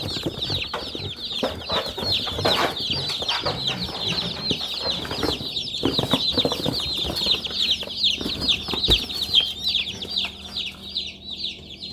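A crowd of Cornish Cross meat chicks in a garage peep constantly, their high, overlapping chirps thick and unbroken, with occasional rustling and shuffling beneath.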